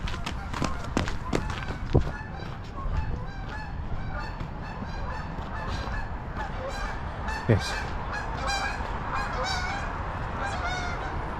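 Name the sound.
geese honking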